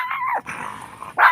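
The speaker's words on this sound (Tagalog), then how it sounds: "Kumakahol na naman ng si Gabriela Silang." A puppy at home barks and yips close by in a rapid sequence of high, whiny barks, with a short pause before a final sharp yelp. No speech is heard.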